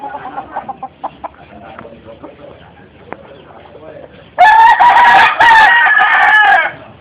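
A chicken clucks and squawks loudly up close in the second half, after a stretch of quieter background voices and faint clucks.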